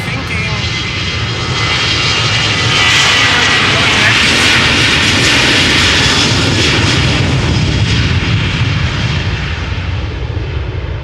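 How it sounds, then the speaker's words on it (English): An Airbus A320 roars steadily at Amsterdam Schiphol Airport as its jet engines drive a takeoff run, loud and continuous throughout and swelling slightly toward the middle. "that is the airplane, that the A320 that initially aborted its departure"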